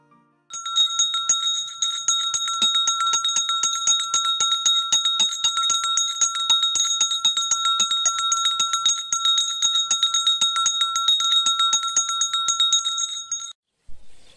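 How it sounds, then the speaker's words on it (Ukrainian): Ringing of the traditional last school bell at a Ukrainian end-of-year celebration, a continuous rapid metallic trill held loud and close for about thirteen seconds before it abruptly stops. "Останній дзвоник пролунав, він довгий час нам всім співав."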